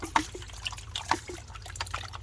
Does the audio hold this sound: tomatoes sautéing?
no